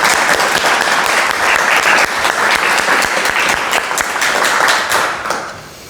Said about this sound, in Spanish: Es de costumbre recibir a la autora con un aplauso.